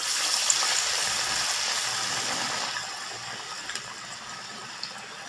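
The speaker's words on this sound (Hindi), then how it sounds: "अब हम दाल वड़ा बनाएंगे। अब हम तेल में डालेंगे।" Spoonfuls of masala dal vada batter slide into hot oil and fry with a steady, dense sizzle and bubbling, close and fairly loud, with a few faint clicks from the pan throughout.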